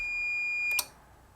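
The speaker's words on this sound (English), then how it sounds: "We should hear the beep" A single steady electronic beep from a Teknic ClearPath servo motor setup as its switch closes, a clear tone held for most of a second that ends in a short click, heard alone in a quiet room.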